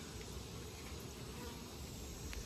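Honey bees coming round from CO2 anesthesia inside a Varroa Easy Check mite-testing jar give off a steady, continuous insect buzz, close and fairly quiet, with no voices over it.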